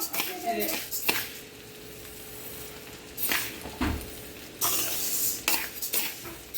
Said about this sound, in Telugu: కేజీ సజ్జలను దోరగా వేయించుకుందాము